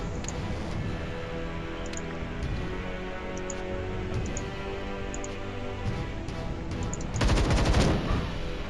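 Continuous rapid gunfire and battle noise from the video game Templar Battleforce, a dense steady clatter with regular ticking, swelling into a louder burst near the end.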